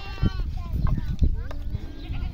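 Sheep with one cropped ear bleating on a farm, several wavering calls from the flock mixed with a person talking nearby and general outdoor background.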